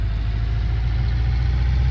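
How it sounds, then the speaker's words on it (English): A small tractor engine in a farming video game, hauling trailers and a hay baler to the farm, gives a steady, low, rumbling drone that holds an even level throughout, with no voices. "I can definitely pull some trailers with this little tractor and the baler"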